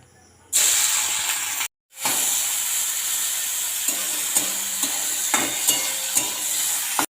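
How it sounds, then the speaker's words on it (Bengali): Prawns rubbed with salt and turmeric fry in hot oil in a pan, a loud steady sizzle that starts abruptly, breaks off for a moment, then resumes with light scrapes and clicks as they are turned. "তেল দিয়ে দিলাম। এই চিংড়ি মাছগুলো ভেজে নেব"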